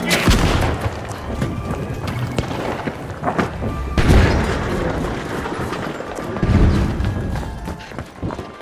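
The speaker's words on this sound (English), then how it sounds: "Using pyro grenade." Pyro grenade detonations and gunfire in The Finals PC game, with repeated loud booms and crashing bursts in dense, continuous combat noise, sharp impacts near 4 and 6.5 seconds.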